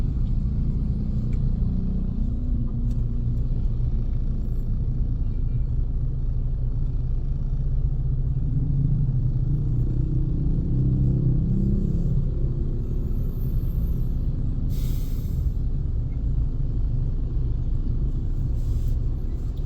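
Heavy rush-hour traffic on a congested Jakarta road, cars and motorbikes rumbling together in a constant, loud, low drone close by, with engines idling and creeping throughout.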